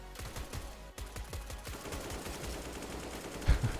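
Rapid gunshots crack in quick succession at a hanging figure on the Counter-Strike Dust 2 Halloween map, a steady volley of fairly loud automatic fire with one heavier thump near the end.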